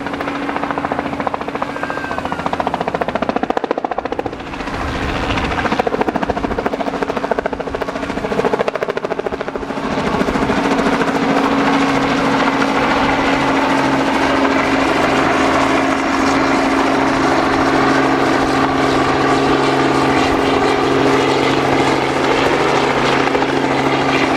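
A rescue helicopter hovers overhead during a water rescue demonstration, its rotor and engine roar loud and continuous throughout, with a steady droning hum.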